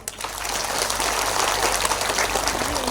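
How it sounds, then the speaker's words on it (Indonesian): An audience applauding during an Indonesian religious talk, a broad, hissing patter of many hands that swells after a quick start and holds steady, with a faint low hum beneath. "Tepuk tangan untuk Indonesia"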